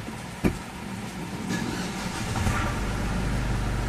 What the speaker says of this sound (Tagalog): umistart na itong makina